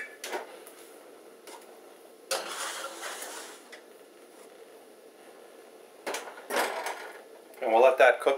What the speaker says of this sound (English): we're going to transfer the loaf pan onto a baking sheet and then put that in the oven